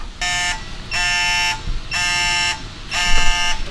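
A digital torque wrench used while torquing parts on a Toyota FRS fitted with a Honda engine beeps loudly in four steady, evenly spaced electronic bursts, each about half a second long, close up and clear.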